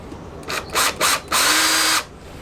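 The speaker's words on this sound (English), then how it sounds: "22mm hole in the chassis with a stepped cone cutter" Stepped cone cutter on a power drill boring a 22mm hole through a car chassis: several short loud whining bursts, then a longer steady cut of about a second with a rising tone, close by.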